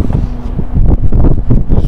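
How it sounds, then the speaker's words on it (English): Heavy wind buffets the microphone in low, rumbling gusts that keep going throughout, loud and close with no other clear sound. "It's a little windy out here"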